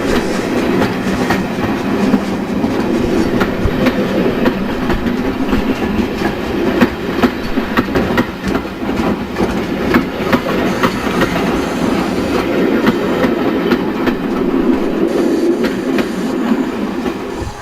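A restored locomotive pulling a passenger train on a preserved seaside railway rolls steadily by with continuous rumble and rhythmic clickety-clack of wheels on track, fairly loud and close throughout.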